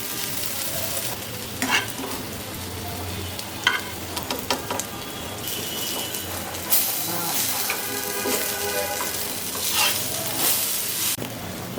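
Small lentil dumplings fry in mustard oil in a wok, a steady sizzle with intermittent stirring and scraping, continuous crackling throughout, close and moderately loud.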